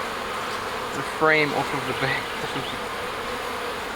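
Honey bees buzz steadily around an open hive during a spring honey super inspection, a close, continuous drone with a louder burst partway through as a person speaks briefly over it.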